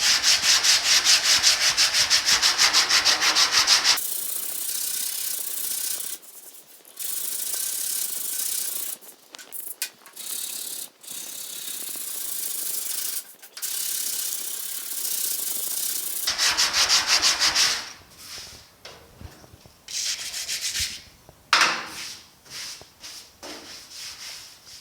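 Sandpaper on a sanding board rubs over the painted cab of a 1950 Chevy five-window truck in long, steady back-and-forth strokes, loud and close, with brief pauses between passes and no talking.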